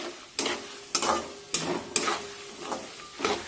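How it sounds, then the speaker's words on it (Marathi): Murmura chivda ingredients sautéed in a pan over a medium flame, with about six distinct scraping stirs at a steady pace over a light sizzle, close and clear, no voices. "आता मध्यम आचेवर हे सर्व जिन्नस मी छानपैकी परतून घेते"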